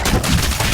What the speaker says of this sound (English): oh, that was a really nice explosion